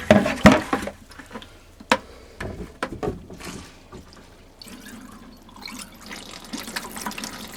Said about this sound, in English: We'll allow that to pump right out and get that nice pink antifreeze flow.